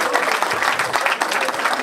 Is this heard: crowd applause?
yes